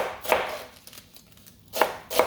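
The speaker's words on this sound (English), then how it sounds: "we chop the greens and the spinach" Greens and spinach for sarson da saag being chopped with a knife on a board, three crisp close chops, one early and two close together near the end, with quiet gaps between and no talking.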